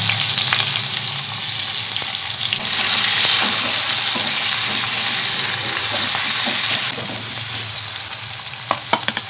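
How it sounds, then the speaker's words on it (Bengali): Chopped onions frying in hot mustard oil in a wok give a loud, steady sizzle that swells in the middle. Stirring scrapes and light clicks come through near the end. "তার জন্য কড়াইতে দিয়ে দেবো কুচানো পেঁয়াজ"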